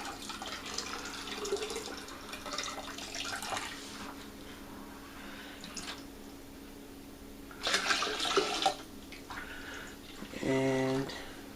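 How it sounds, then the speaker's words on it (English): Water and fruit juice pour from a pail into a wine fermenter for homemade dragon blood wine, a steady splashing wash with louder surges partway through and near the end. "take my pail of water and juice, pour it in,"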